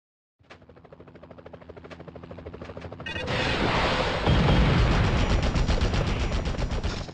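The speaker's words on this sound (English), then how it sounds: "Enough with the shooting already!" Gunfire in the PS1 Spider-Man game from 2000, a steady run of rapid shots that builds and thickens into dense, loud automatic fire lasting several seconds, with no talking.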